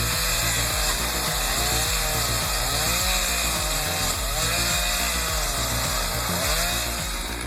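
A big chainsaw runs loud and continuous while cutting down a massive tree, its engine droning steadily with rhythmic dips and surges as the chain bites into the wood.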